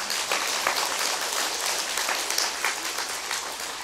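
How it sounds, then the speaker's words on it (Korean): An audience at a Buddhist dharma talk in a temple hall claps together in a steady, dense burst of applause that stays even and fairly loud throughout, with no voices over it. "박수를 쳐봐."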